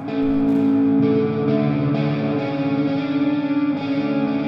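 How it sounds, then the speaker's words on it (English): A sustained electric guitar chord through an amp sim ringing out, its notes repeating in a tempo-synced quarter-note delay with strong feedback, very wide stereo, washing into a lush reverb tail. "a time synced quarter note delay with a decent amount of feedback, massive width"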